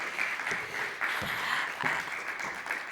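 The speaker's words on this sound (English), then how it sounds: "Let's give her another round of applause" Audience applause at a Standard Bank business and commercial banking dialogue event, a steady, dense wash of many hands clapping in a room, sustained and fairly even throughout.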